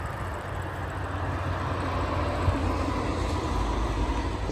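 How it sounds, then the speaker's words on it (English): A train rolls past near a bicycle path, a steady, moderately loud rumble that swells slightly partway through and holds without a break, with no talk. "The train."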